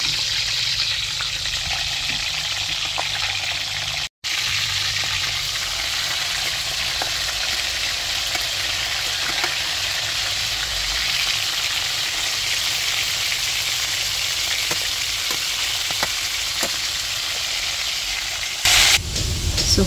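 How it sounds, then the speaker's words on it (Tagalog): Fish sizzles and crackles steadily in hot oil, a dense continuous hiss with small pops, close by and uninterrupted for the whole stretch. "Piprito ko ngayon."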